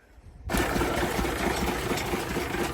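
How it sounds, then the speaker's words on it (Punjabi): A 5630 tractor engine abruptly starts up and keeps running at a steady, loud, chugging idle with a rhythmic knock, close by. "ਟਰੈਕਟਰ ਚੱਲ ਰਿਹਾ ਠੀਕ ਚੱਲ ਰਿਹਾ ਵਧੀਆ ਚੱਲਦਾ"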